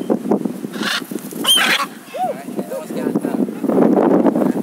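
Gusty wind buffeting the microphone in low rumbling bursts, with a bird's honking calls and voices mixed in.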